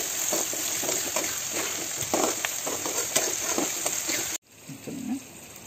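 Tomatoes and onions sautéing in a pan for a Tamil village-style fish curry (meen kulambu): a steady, close sizzle with scattered stirring clicks, breaking off abruptly near the end into a quieter, softer fry.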